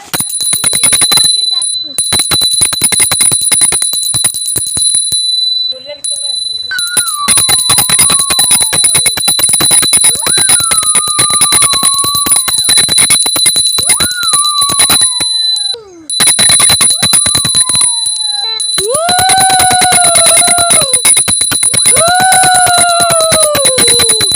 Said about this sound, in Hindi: जोर जोर से घंटी बजने की आवाज़ आती है